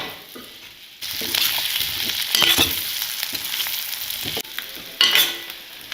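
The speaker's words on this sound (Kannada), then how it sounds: "ಇದನ್ನು ಒಂದು 2 ನಿಮಿಷ ಎಣ್ಣೆಯಲ್ಲಿ ಈ ಥರ ಮಿಕ್ಸ್ ಮಾಡ್ತಾ ಹುರ್ಕೋಬೇಕು" Ingredients frying in hot oil for a mini thali meal, stirred steadily with a spoon; a loud, continuous sizzle with scraping strokes and a few sharper clatters, close and with no talk.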